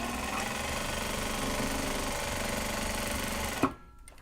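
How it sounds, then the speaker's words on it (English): A sewing machine runs in one steady, continuous burst while stitching the bottom seam of a leather box bag, then stops abruptly near the end. "Okay, I'm going to stitch the bottom here."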